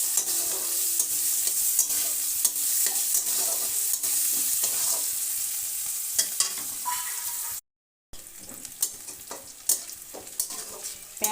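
Chopped medium onion frying and being stirred in a pan for a Bengali fish curry with cauliflower and potato, a steady sizzle with repeated scraping stirs throughout, close and alone apart from a brief dropout.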